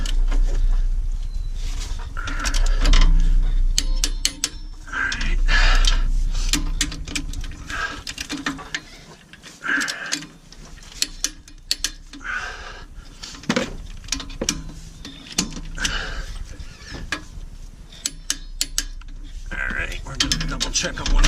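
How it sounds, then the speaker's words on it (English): A ratcheting torque wrench tightens the steering box bolts on a Jeep Wrangler JK, with repeated clicking ratchet strokes in bursts alongside metallic knocks and handling noises, close up and without talk. "we're going to torque this stuff down. And again, the steering box bolts get torqued to 70 foot-pounds"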